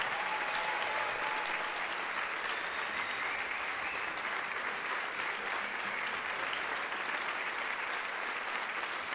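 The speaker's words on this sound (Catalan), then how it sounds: "Que si ens mereix un triple fort aplaudiment." A concert audience at a Christmas concert by the Filharmònica de Porreres breaks into loud, continuous applause, a dense wash of clapping held evenly throughout without a break.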